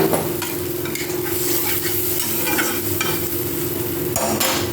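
Curry for doi katla sizzles and hisses steadily in a pan, a continuous frying noise with a low hum beneath and a brief burst of louder crackle near the end.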